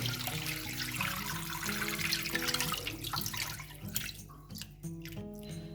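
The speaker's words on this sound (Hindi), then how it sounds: "थोड़ा पानी डालेंगे" Water pours steadily into a pot of mutton for several seconds, a splashy running stream heard over background music.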